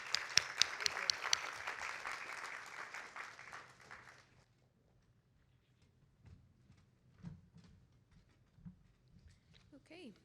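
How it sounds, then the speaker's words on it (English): An audience at a pitch competition at the Concordia Annual Summit applauds a presenter, a burst of clapping for about four seconds that quickly fades, followed by quiet room noise and brief talk. "let's give one more round of applause for Donna"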